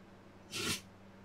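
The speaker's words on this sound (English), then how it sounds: "Bless you, puppy dog." A dog gives a single short, sharp sneeze indoors, close and brief against a quiet room background.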